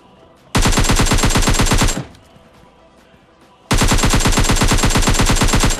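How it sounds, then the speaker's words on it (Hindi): Rapid automatic gunfire in PUBG Mobile Lite near a stadium swimming pool, two loud sustained bursts of dense rapid shots separated by a quieter gap with faint distant shots. "स्विमिंग पूल साइड से फायरिंग साउंड आते हैं"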